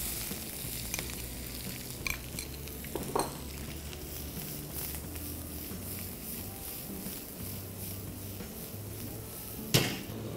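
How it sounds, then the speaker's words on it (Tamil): Finely chopped onions frying in oil for masala parotta, a steady soft sizzle broken by a few sharp clinks of a spoon against the pan, the last one louder near the end. "அந்த சாப் பண்ண வெங்காயம் வந்து நல்லா கோல்டன் ப்ரௌன் கலரில் வேகணும்"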